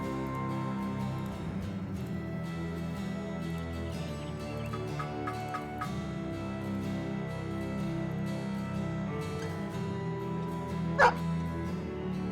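Puppies bark and yip in Battle Brothers Legends, a run of short yaps near the middle over a steady bed of game music and ambience, with one sharper cry near the end.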